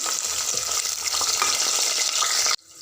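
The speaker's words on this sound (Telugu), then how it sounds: "ఒక రెండు మీడియం సైజు ఉల్లిపాయలు ఇంకా కట్ చేసి వేసుకోవాలి" Chopped medium onions frying in oil in a pan for ivy gourd curry, a steady close crackling sizzle with occasional stirring scrapes, ending abruptly.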